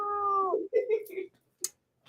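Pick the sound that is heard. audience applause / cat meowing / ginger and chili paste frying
cat meowing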